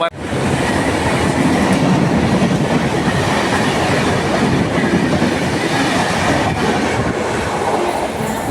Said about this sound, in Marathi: स्पीड आहे बघा ट्रेनला